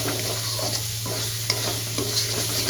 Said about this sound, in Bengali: মশলাগুলো দিয়ে ভালো করে কষাবো।